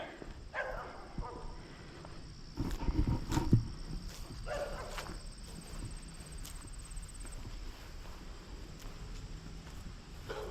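Dog barking outdoors on a country walk, scaring a flock of wild turkeys: a few distant woofs and a brief louder burst midway, with faint footsteps and rustling in a quiet open setting, no one talking.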